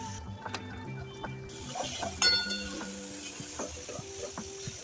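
Tomatoes and mixed vegetables sizzle steadily in a pan over moderate heat while a utensil stirs and scrapes with occasional clinks, close and continuous with no talking.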